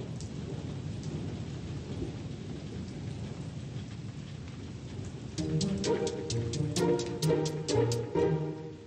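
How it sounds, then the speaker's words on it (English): Steady rain pours throughout with rumbling thunder, and a gentle melody rises over the downpour in the second half. "It's raining and it's never ending."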